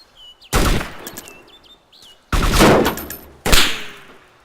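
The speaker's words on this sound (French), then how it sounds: "Ça tire. Ouais, c'est moi qui tire." Three loud, abrupt bursts of gunfire in the survival video game DayZ Standalone, each a sharp blast with a decaying tail, separated by short pauses, over faint bird-like chirps in the background.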